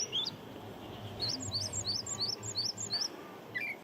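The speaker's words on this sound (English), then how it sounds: "Chinese blackbird, quite common in the city." Chinese blackbird in a city neighbourhood on a rainy day, singing a run of quick, high, bright chirps repeated in a steady series over soft background rain and hum.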